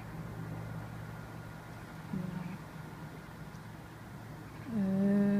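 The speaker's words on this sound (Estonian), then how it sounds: "see kahin, nagu lainekohin, mis on, et see on linnutiibade hääl" A large evening flock of starlings sweeps overhead, their wingbeats making a steady, soft rustle like distant surf, set against a constant low rumble of road traffic nearby.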